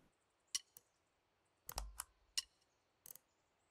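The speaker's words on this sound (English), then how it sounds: "can I get rid of that clicking noise?" Several sharp, dry clicks sound sporadically in The Artful Escape, some single and some in quick pairs, crisp and close against near silence.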